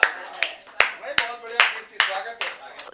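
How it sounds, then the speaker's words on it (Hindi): Clapping for a poet at a Hindi poetry recital, sharp claps landing in a regular beat about every half second, with a voice heard between and under them. "तालियां"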